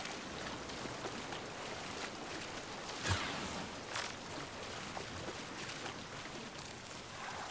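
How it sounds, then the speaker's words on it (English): Steady rain hiss from the video game Marathon, soft and continuous throughout, with a couple of brief brighter splashes or impacts standing out over the constant downpour. "It's nice to have the rain"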